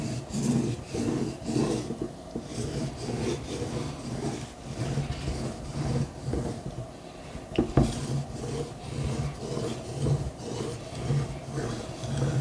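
Deba knife drawn over a 6000 grit whetstone in repeated back-and-forth strokes, a steady rhythmic scraping rasp close up, with one sharp click partway through.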